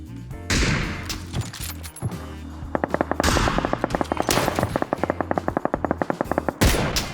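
Gunfire in the video game PUBG: a few heavy shots followed by long rapid bursts of automatic fire, loud and close, with sharp repeated cracks over game background noise.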